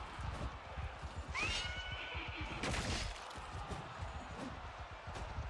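Horses whinnying in the strategy video game Voor de Kroon during battle: a couple of sharp, rising-and-falling neighs stand out over a busy din of hooves and clatter.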